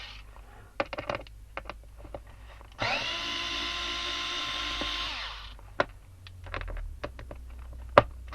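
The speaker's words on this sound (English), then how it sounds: "I'm using an electric screwdriver." Electric screwdriver backing out Look Keo cleat bolts from a cycling shoe, one close whirring run of about three seconds between light clicks and handling taps.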